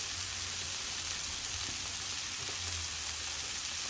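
Cheeseburger patties sizzle on a hot flat top griddle turned up high, a steady broadband hiss of frying that runs evenly and close for the whole stretch, with faint low rumbles beneath and no talk.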